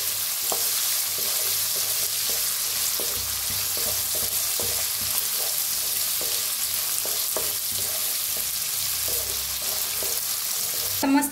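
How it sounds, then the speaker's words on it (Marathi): Sliced onion and curry leaves fry in hot oil in a pan, a steady sizzle punctuated by regular scraping stirs, close and alone without talk. "त्याच्यात टाकूया कांदा, कांदा असा लांबकळा कापून घेतलाय बघा, छान असं कांद्याला भाजून घेऊया"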